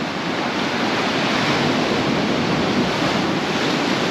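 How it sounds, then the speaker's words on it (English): Big ocean waves breaking on the shore at Sant Elm, Mallorca, in January: a steady, loud, continuous roar of surf with wind noise and no voices. "Some bigger waves, big one coming there,"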